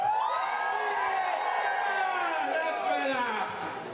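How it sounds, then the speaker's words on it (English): A large Friday night theatre audience cheers and whoops loudly, a sustained roar of many voices lasting several seconds before easing slightly at the end. "Can we just have a really big Friday night cheer?"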